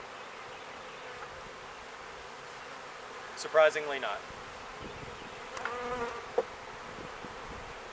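A constant buzzing hum of a swarm of honeybees fills the background, with a couple of brief spoken remarks and a sharp tap partway through.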